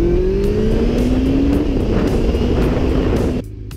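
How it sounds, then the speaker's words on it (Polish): Loud, steady engine roar outdoors from motorcycles in riding season, a continuous drone with rising pitch sweeps as a machine passes, cutting off sharply near the end to quieter ambience. "W mojej okolicy coraz częściej słychać ryk maszyn."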